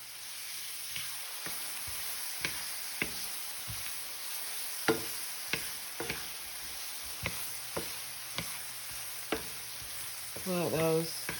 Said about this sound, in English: then I'm going to get the hamburger meat and brown it